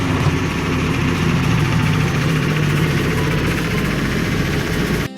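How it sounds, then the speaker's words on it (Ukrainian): A tractor engine drones steadily and loudly throughout at a constant idle-like pace, with low rumbling and no voices. "Трактор знову вирушив у поле, щоб продовжити свою роботу."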